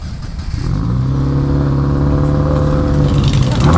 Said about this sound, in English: give us a little sound test here of the Tomei.